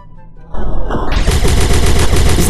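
Rapid blaster gunfire from the video game Melon Playground, a loud continuous burst of fast repeated shots that starts abruptly after a brief quieter moment and keeps going without talk.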